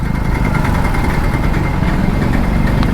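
A Hero Splendor motorcycle ridden through city traffic, its engine a steady, loud, close drone with continuous buzzing and no voices.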